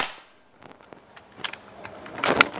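A sequence of sharp, short pops from a double-tank Black Army Viper PCP air rifle, spaced irregularly, growing louder toward the end with one strong crack near the close.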